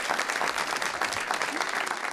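Steady, full applause from a TV talk show studio audience, dense clapping at an even level throughout with faint voices underneath.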